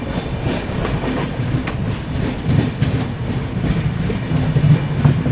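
The Ranikhet Express runs parallel and overtakes during a New Delhi to Banaras superfast journey, a steady loud rolling rumble with soft clickety-clack of wheels heard from inside a moving carriage, without speech.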